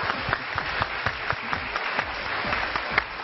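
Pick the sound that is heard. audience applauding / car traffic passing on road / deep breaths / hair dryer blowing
audience applauding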